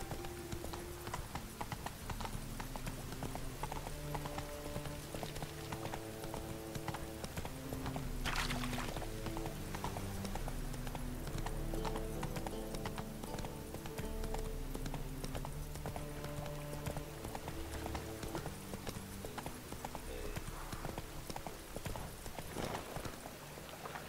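In The Witcher 3, the horse Roach gallops steadily for the whole stretch, with continuous rhythmic hoofbeats over game music and ambience, a brief whinny around the middle, and no speech.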